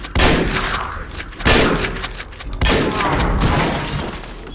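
Three loud, sharp shotgun blasts in the video game Ashes: Afterglow, each a booming crack with a long ringing decay. They come at a slow, regular pace with no voices.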